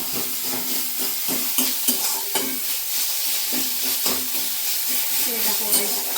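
Food frying in a pan while being stirred, a loud close hissing sizzle with rhythmic scraping strokes and clinks throughout.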